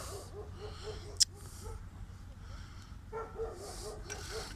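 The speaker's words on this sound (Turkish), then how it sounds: "Bu saatte köpeklerle uğraşmıyorum hiç." Several dogs bark repeatedly in the distance on a winter evening in Şarköy, faint against a steady low rumble of background noise, with a sharp click partway through.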